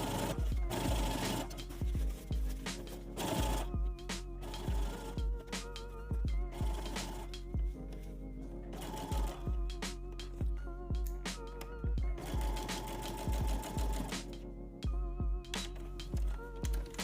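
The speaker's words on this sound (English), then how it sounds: "Using roughly a 13mm or 1/2 inch seam, sew the waistband to the top of the skirt." A sewing machine stitches a waistband onto a fabric tennis skirt, its rapid motor hum running close and steady in bursts, briefly pausing and restarting several times.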